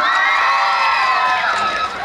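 A crowd of children at a school jamboree closing ceremony on a stage, shouting and cheering loudly and continuously in a bright, dense wash for a couple of seconds, easing slightly at the end.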